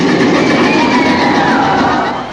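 Thunder Mountain Railroad ride train at Disneyland rumbling along the track, a steady loud rolling roar with squealing wheel tones sliding over it, continuous and close for a couple of seconds.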